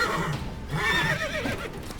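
A horse in The Witcher 3 gives a loud, close neigh that rises and wavers for about two seconds, with faint hoof clatter and game noise underneath.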